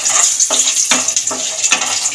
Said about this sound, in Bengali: এবার রসুনটা ভেজে নেব।